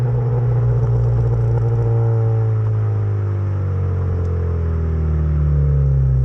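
A Ford Fiesta Zetec S with a new loud aftermarket exhaust burbles on the downshift, a close, steady low rumble with descending engine tones and light crackle running throughout.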